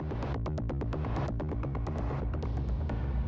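A modular synth patch run through a gated reverb pulses in short, sharply cut bursts over a steady low droning tone, each reverb tail chopped off abruptly in a regular rhythm.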